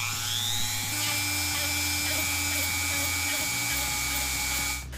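A rotary sanding bit cleans up rough cuts on homemade Spartan armor pieces, giving a loud, steady high-pitched whine whose pitch steps down partway through before cutting off at the end.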